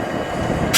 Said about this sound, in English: The train, Lake State Santa train, has arrived at 4:30.